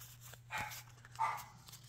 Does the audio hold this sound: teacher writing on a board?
no